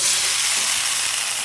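Fern and sardines sauté in a pan in an outdoor dirty kitchen, producing a loud, continuous, close-up frying sizzle with no voices over it.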